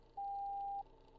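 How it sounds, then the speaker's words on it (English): An incoming phone call in the video game House on the Hill sounds as one clean, steady electronic tone lasting just over half a second against a quiet background. "I'm getting a phone call."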